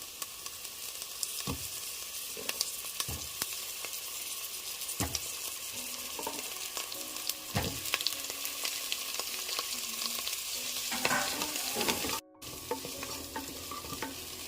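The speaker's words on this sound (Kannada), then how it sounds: "ಇವಾಗ ನಾನು ತೊಗೊಂಡಿರೋಂಥ ಕಾಲನ್ನು ಸೇರಿಸ್ಕೊತಾ ಇದ್ದೀನಿ." Mutton legs frying with browned onions in a pan for leg soup, a steady close sizzle broken by repeated scraping strokes of a spoon stirring, with no voices.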